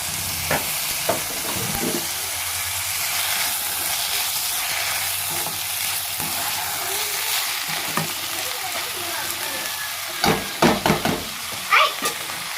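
Rice being stirred and fried in a pan for chicken biryani gives a continuous loud sizzle, with scraping strokes of the spoon and a burst of clattering knocks near the end.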